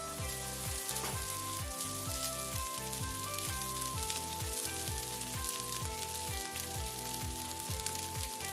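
Cabbage and rice are stir-fried together in a wok with a steady, close sizzle that runs the whole time, while rhythmic background music plays underneath.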